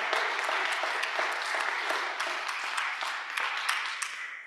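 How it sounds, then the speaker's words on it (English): A church congregation claps for departing members at a meeting, brisk, even applause at moderate volume with some individual claps standing out, easing slightly at the end. "Let's give a round of applause to everyone who is signing off"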